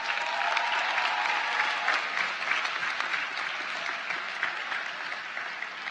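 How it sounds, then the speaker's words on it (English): Commencement audience applause, a broad, steady wash of clapping from a large crowd heard at moderate distance, sustained evenly throughout without talk. "Please give her a round of applause"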